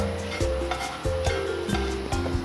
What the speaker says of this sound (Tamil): இப்படி போட்டோடனே உங்களுக்கு கொஞ்சமாக பொரிஞ்சு வரும்.